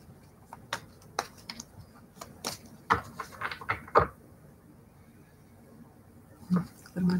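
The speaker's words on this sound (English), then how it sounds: "Just do some light shuffling here." Light shuffling of a deck of cards, a run of soft dry riffling taps and flicks with short pauses between bursts, close and quiet in a still room with no voices.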